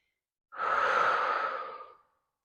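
A single long, audible breath during a slow-flow yoga session, sitting up tall: one steady, close exhale lasting about a second and a half, with silence on either side and no talk.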